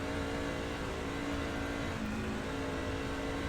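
In the iRacing video game, a race car engine holds a steady, buzzing rev at the Las Vegas race start, a constant mid-level whine with faint pitch wobble and no talking.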